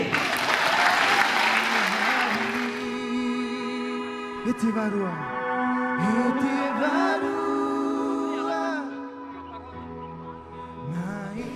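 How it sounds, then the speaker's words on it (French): An audience at a 2018 synod of the Diocese of Papeete bursts into loud, dense applause for about two seconds, then the clapping drops away beneath voices that carry on. "On peut même s'applaudir."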